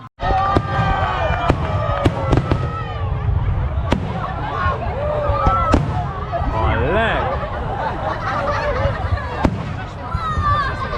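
Fireworks launched from a boat pop and crack repeatedly at irregular intervals, sharp bursts over a constant murmur of a crowd talking nearby, in a Swiss mountain town.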